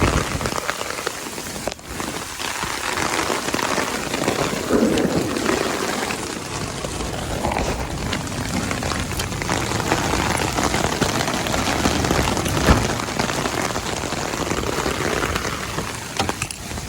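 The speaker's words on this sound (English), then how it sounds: "It's a rainy night" Torrential rain pours at night in north Texas, dense and steady drumming on surfaces and an umbrella, loud and continuous throughout with no speech.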